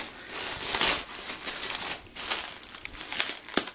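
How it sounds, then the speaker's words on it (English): A package being cut open with scissors, heard up close as irregular crinkling and crackling of wrapping with sharp snips and rustles, fairly quiet overall. "Yeah, scissors are gonna open the package."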